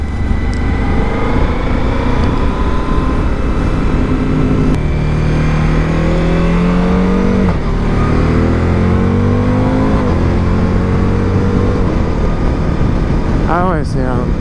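A Suzuki V-Strom 1050 motorcycle accelerates on an open road, its loud, close engine rising in pitch through several gear changes over steady wind rush.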